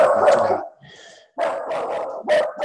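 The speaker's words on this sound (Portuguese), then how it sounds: "se a minha fera aqui em casa parar de latir" A pet dog barks at home in a few loud, close bursts, with a short whine-like pause between barks.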